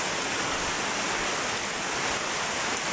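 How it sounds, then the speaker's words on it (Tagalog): Rain starting to fall amid strong wind, a dense steady loud hiss of falling water with no breaks, and no voices over it. "Nag-uumpisa na naman po ang ulan."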